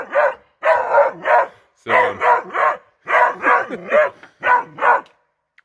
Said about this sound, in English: The coon hound has a coon. She's got quite a bark on her.